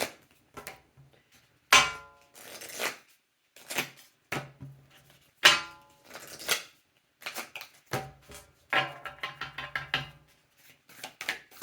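A new, stiff Hocus Pocus tarot card deck is shuffled by hand, giving crisp riffling bursts and snapping card flicks in irregular clusters, close to the ear with short pauses between.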